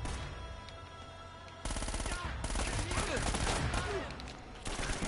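Rapid automatic gunfire from a shootout in the video game Uncharted, dense repeated shots that swell louder partway through, with background game sounds.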